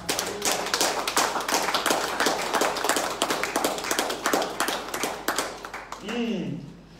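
A church congregation at a sermon claps loudly and cheers, a dense, rhythmic burst of handclaps carrying on throughout with voices rising above it, fading toward the end.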